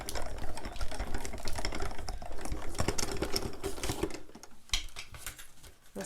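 A Diamond Press die-cutting machine running a cutting folder through, giving a steady close mechanical whirring and clicking that fades slightly near the end.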